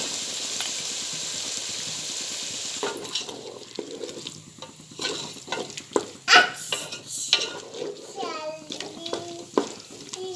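Peas fry with onion and tomato in a little oil: a soft sizzle under spoon stirring and pan clatter, with a voice speaking in the background during the second half.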